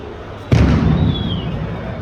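Firecrackers go off outdoors on a hot day in Milan, one sharp loud bang followed by a rumbling decay that lingers, fairly close, with faint background noise and no talk.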